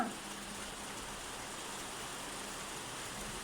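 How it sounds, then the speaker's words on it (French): Heavy rain falling outside, heard from indoors as a faint, steady broadband hiss that stays constant without breaks or distinct drops. "dehors, il pleut sa race"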